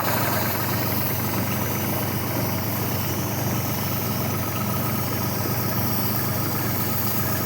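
A tractor engine drives a pesticide sprayer through a tall pigeon pea field, a steady, loud mechanical drone with constant vibration and hiss running unbroken throughout, no pauses or changes in pitch.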